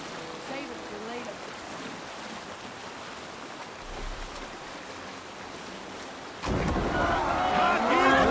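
Rain falls steadily in the video game Assassin's Creed Valhalla, a soft continuous hiss that swells into a louder, fuller wash near the end.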